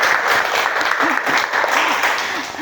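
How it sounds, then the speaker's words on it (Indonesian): Schoolchildren in a classroom clap together in a brisk, continuous burst of applause that stays even and close throughout. "Ye, tepuk tangan lagi."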